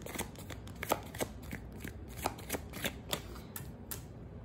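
Tarot cards being shuffled close up, a rapid series of crisp riffling snaps and slaps at an uneven rhythm, fairly quiet and without speech.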